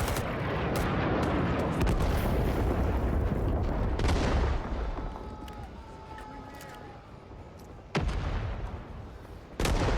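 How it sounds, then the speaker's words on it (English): Heavy booms and rumbling blasts from a napalm strike fill a video game battlefield, with rockets whizzing by, loud at first before the explosions thin out into scattered sharp bangs. "You'll see the effects of the napalm strike coming in here, and it really does add to the gameplay."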